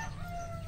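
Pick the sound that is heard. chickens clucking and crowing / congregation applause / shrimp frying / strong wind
chickens clucking and crowing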